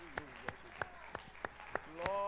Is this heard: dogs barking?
no